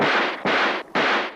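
Three loud, harsh film gunshots in quick succession, each a broad crackling blast lasting about a third of a second.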